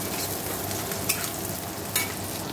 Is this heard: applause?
no